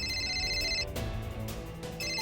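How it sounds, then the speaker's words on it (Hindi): A phone rings in a home, a loud electronic ringtone with a bright repeating tone that breaks off twice and resumes, with no talk over it. "फोन बज रहा।"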